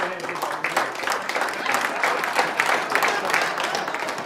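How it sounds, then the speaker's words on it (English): Audience at a corporate comedy magic show breaks into applause, a moderately loud burst of mixed clapping from many hands that continues steadily for a few seconds. "Let's give her a hand."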